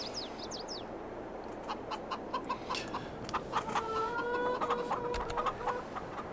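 Chickens in a Farming Simulator farm pen cluck in short, scattered bursts over a soft ambient bed, with faint bird chirps early on and no speech.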